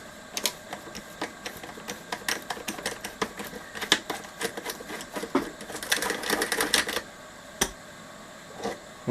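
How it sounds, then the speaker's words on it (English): An 8mm socket wrench works nuts off the chassis of a high-end audio pre-amp, giving a rapid series of light metallic ratchet clicks and taps in irregular bursts, close and fairly quiet. "Just going to go with the 8mm socket."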